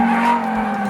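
A Lamborghini Huracan Evo corners hard on a race track, a loud, sustained engine drone with tire noise carrying steadily through the whole moment, no voices.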